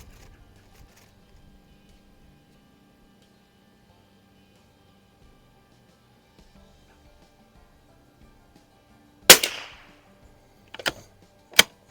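An Anschutz Biathlon 1827 rifle fires at an outdoor range, a long quiet stretch broken near the end by one sharp, loud report followed by two more shots a second apart.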